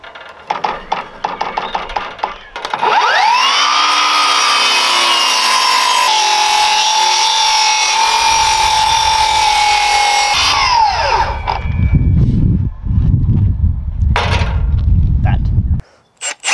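A mill cuts through a wooden wedge for about eight seconds, a loud steady whining grind that starts and stops abruptly, with scraping and handling knocks before and after.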